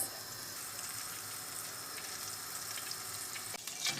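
Butter and olive oil sizzle faintly in a pan before noodles are added, a soft steady fry heard from a distance with a brief knock near the end.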